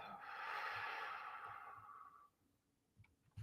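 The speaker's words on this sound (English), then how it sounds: "Breathing out of the mouth." A slow, steady exhale through the mouth during a guided relaxation breathing exercise, a soft airy rush lasting about two seconds before fading into quiet, with faint breathy sounds after.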